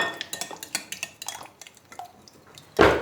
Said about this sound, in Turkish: Şöyle güzelce çırpıyorum yoğurdu.